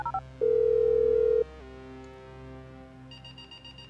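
A phone call is placed in Grand Theft Auto V, with short dialing beeps followed by a steady electronic tone that shifts pitch and a brief burst of beeps at the end, clear and without talk.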